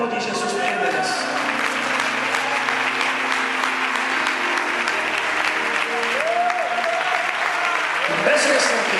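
A church congregation applauding during a vigil service, sustained dense clapping from a large crowd filling the room, with a voice speaking faintly over it.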